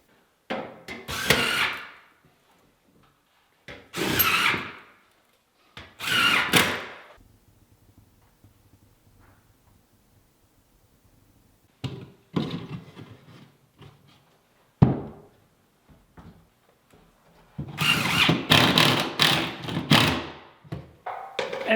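A drill drives screws into a steel drywall bulkhead fixed to the ceiling, with several short whirring bursts of a few seconds each separated by quiet pauses and a final longer, busier stretch of driving and handling noise.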